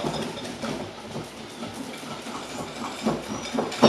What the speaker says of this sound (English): So you're just going to give a good little whisk now.